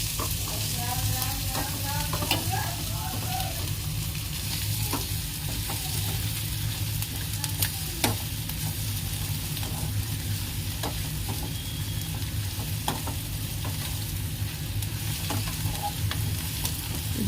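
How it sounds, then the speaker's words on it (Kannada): Onions roasting and being stirred in a pan, a steady close sizzle with occasional scrapes and taps of the spoon throughout, no voices. "ಈರುಳ್ಳಿ ಸೊ ಸ್ವಲ್ಪ ರೋಸ್ಟ್ ಹಾಕೊಂಡು ಬೇಯಿಸ್ಕೊಳ್ಳೋಣ ಈಗ ಈರುಳ್ಳಿ ಎಲ್ಲ ಕ್ಲೀನಾಗಿ ಮಿಕ್ಸ್ ಮಾಡ್ಕೊತೀನಿ"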